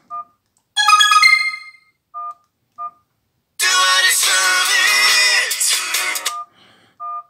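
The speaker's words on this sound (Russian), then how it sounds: "Рингтон стоит мой самый любимый. Динамик шарашит, я балдею." A Sony Ericsson W508 phone plays its ringtone loudly through its speaker: a few short electronic beeps, a bright melodic burst, then a longer, dense, tuneful stretch that ends in more beeps, with no talking.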